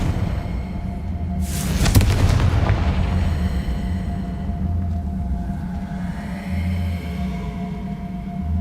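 A Confringo fire spell blast from Hogwarts Legacy lands as a loud booming burst with a crackling rush, then fades into a long rumbling tail under steady game ambience.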